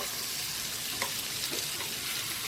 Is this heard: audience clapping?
no